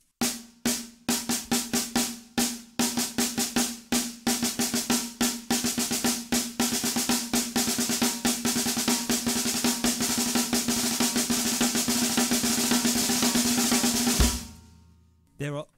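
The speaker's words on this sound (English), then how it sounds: "I start with the 2 singles, then the 2 doubles. It sounds like this." Close snare drum playing six-stroke rolls that open with two singles and close with two doubles, crisp strokes repeating in a steady cycle and tightening into a dense continuous roll before cutting off at the end, with no voices.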